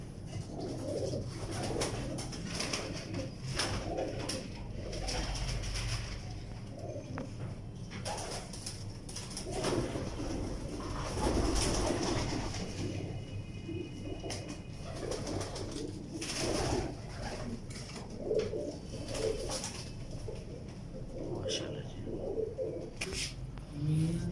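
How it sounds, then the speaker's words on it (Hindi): Teddy pigeons coo repeatedly in soft, rhythmic bursts at close range, several calls spread across the span over a quiet background with occasional shuffling. "उस्ताद जी ये कौन सा कबूतर है?"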